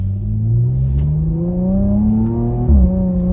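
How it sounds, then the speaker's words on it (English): A Porsche Macan Turbo SUV with a PDK gearbox accelerating hard, engine note rising steadily then dropping abruptly at a near-instant gear shift before climbing again, heard close from inside the car. "going for a spin in the Macan Turbo"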